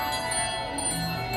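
Chiming bells ring at a Tinker Bell spot in a Disney World theme park, a steady bright metallic shimmer that carries on for the whole moment against a busy ambient background.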